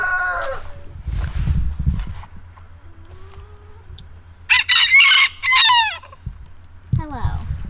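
Chickens leave their backyard coop as a rooster crows loudly and close by, with clucking and a low steady hum underneath. Brief speech is heard at the start.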